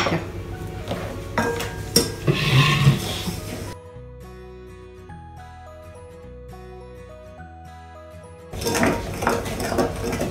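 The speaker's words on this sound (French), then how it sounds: "Et ensuite, tu mélanges." A spoon clinks and scrapes in a bowl while unrefined cane sugar is mixed into cookie-cake batter. The stirring clatter is heard at the start and again at the end, with a stretch of music between.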